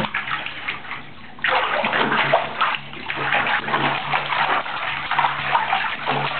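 A small child splashes in a bathtub, bath water sloshing and splattering close by in continuous irregular bursts, with faint voices in the background.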